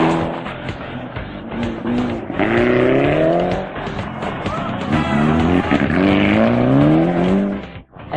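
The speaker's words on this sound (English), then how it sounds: "And here they are making a strong run in SS4 on day 1 of the second round of the Perodua AAM Malaysian Rally" A Perodua rally car races a special stage of the 2003 Malaysian Rally Championship, Round 2 in Perak. Its engine revs hard and climbs through the gears in rising sweeps, loud and close, with possible faint voices.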